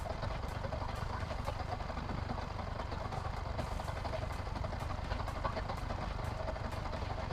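A Yamaha Y15ZR motorcycle engine runs at a steady idle during a coolant flush, a faint, even hum with light periodic ticking.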